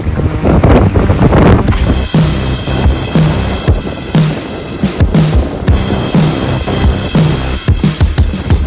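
Strong wind of about 17 knots buffets the microphone while a boat sails, with loud gusty rumbling and water sloshing against the hull in irregular surges.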